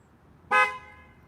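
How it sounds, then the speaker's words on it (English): A single short honk from the horn of a 2021 RAM 1500 TRX pickup, close and loud, a bright brassy blast lasting a fraction of a second over a quiet background. "That's the horn."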